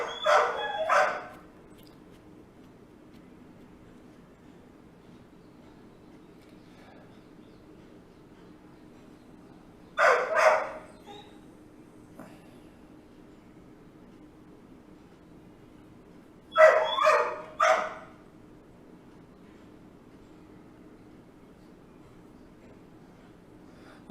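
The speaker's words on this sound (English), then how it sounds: "my dog is barking" A pet dog barks in three separate short bursts spaced several seconds apart, each a quick cluster of two or three barks, moderately close against a quiet room hum.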